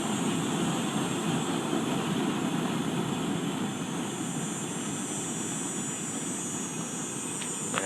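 Bayou Classic banjo cooker propane burner roaring at high flame outdoors, a loud, steady, broadband jet-like rush that holds without pause throughout.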